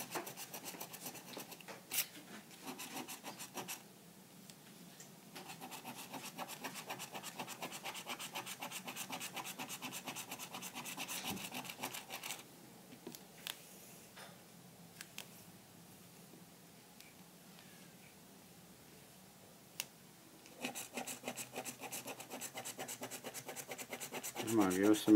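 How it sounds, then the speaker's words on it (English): Close, quiet scratching at a Texas Lottery scratch-off ticket comes in bursts of rapid raspy rubbing strokes, with brief pauses between. "Scratching the numbers off."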